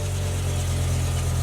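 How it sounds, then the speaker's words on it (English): A BMW E60 M5 engine idling steadily, a low, even, continuous drone heard up close, alone without any voices. "So start the car."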